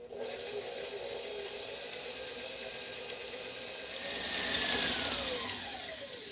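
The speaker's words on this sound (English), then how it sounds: "we're going to put the paddle on. And we're going to mix this up until it's all combined." A stand mixer with a paddle attachment churns gluten-free oatmeal chocolate chip cookie dough, a steady close motor whine and hum that rises slightly in pitch partway through and keeps running without a break.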